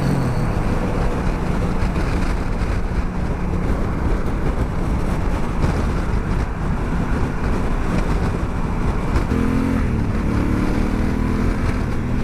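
A Triumph motorcycle on the road with its stock exhaust gives a loud, continuous engine drone under heavy wind rush, steady throughout and with no voices.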